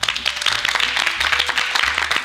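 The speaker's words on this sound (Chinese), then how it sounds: "我们给他鼓掌好不好？" A studio audience claps together in a dense, steady round of applause that stays fairly even throughout, with no talking over it.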